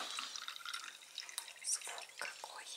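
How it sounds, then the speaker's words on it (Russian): Thick fresh milk is poured into a vessel, a soft steady liquid trickle and splash that stays fairly quiet and close throughout. "Оно густое, смотрите, как наливается."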